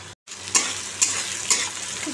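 Onion and green chili sizzling in oil in a pan for a Bengali fish curry, with a steady fry hiss and three spatula stirs scraping at even intervals, close and loud.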